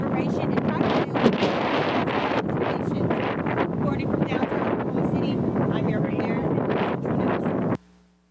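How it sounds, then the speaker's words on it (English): Strong wind buffets the microphone in Oklahoma, a loud continuous roaring rush with gusty swells that lasts several seconds before cutting off abruptly. "with that wind, you can tell that the weather in Oklahoma has been a little crazy recently"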